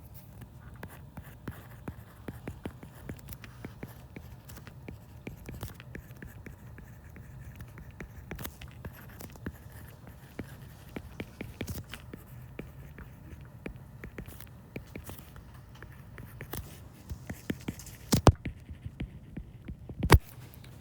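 A pen drawing a moment of inertia diagram on paper, with soft, irregular scratching strokes and taps spread across a quiet background, a couple of sharper knocks near the end.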